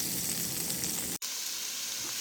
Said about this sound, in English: I threw a couple of sprigs of fresh rosemary in there because you can see that oil in the bottom is still sizzling.